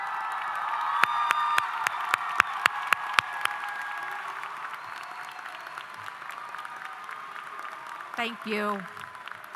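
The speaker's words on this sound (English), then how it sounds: "Can you please stand so we can give you a round of applause if you're going into the military?" High school commencement audience applauding, a soft, distant wash of clapping with a few sharper nearby claps early on, and a brief spoken word near the end.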